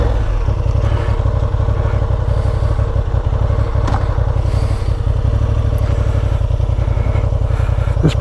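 Honda CB750 Hornet motorcycle ridden around Herdsman Lake in Perth, its engine a steady, loud, close drone with wind rush and light clatter, constant throughout without talking.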